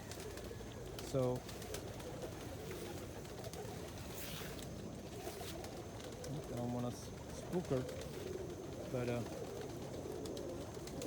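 A young pigeon or dove coos nearby in short, spaced bursts over a quiet background, while a person speaks softly close by.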